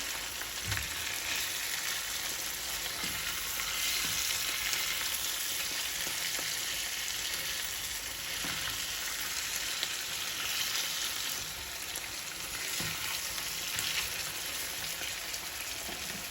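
Eggplant pieces fry in oil and spices in a pan for achari begun, giving a loud, continuous close sizzle with faint stirring scrapes throughout and no voices.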